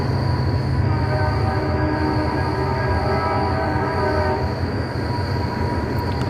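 A loud train passes close by at night, its steady rumble filling the whole stretch while a sustained horn tone holds above it, with no talking.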